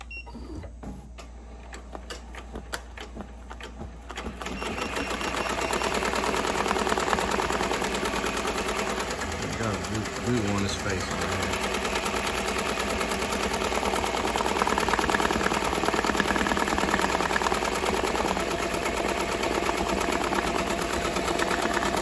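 An embroidery machine stitching a bucket hat starts up after a few seconds of quieter clatter, then runs as a steady, fast, close mechanical chatter with a dense rhythmic whir to the end.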